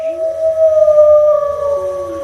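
A long, loud, sustained wolf howl in a moonlit-forest horror story setting, rising at the onset then holding a wavering pitch, with a second howl layered beneath it.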